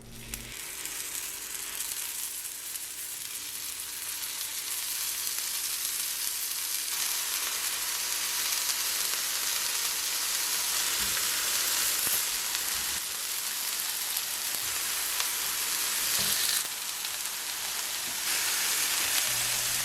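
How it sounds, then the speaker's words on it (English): Steady, loud sizzling of Turkish köfte kebabs frying in a hot pan, a continuous crackling hiss with occasional pops and spatters throughout. "And now it's time to sizzle."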